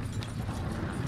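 Horse hooves clip-clop in Red Dead Redemption 2 as horses pull along a trail toward Rhodes, a quick run of soft, evenly spaced thuds over a low ambient bed.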